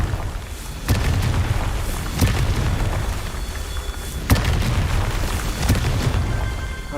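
Fiery Confringo spell blasts in Hogwarts Legacy, several sharp booming explosions bursting at irregular intervals over a dense rumbling combat background, loud and close with no talk.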